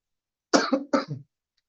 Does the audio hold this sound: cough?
yes